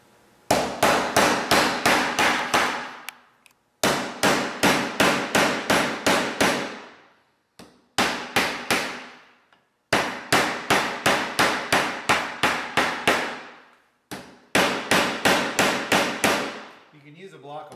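A hammer taps rapidly and repeatedly in five quick runs of sharp metallic strikes, driving a main seal into its housing on a Cummins engine, each run followed by a short pause.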